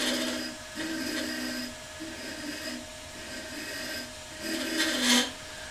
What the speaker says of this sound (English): I'm using very light cuts as well, because we're a long way over the tool rest.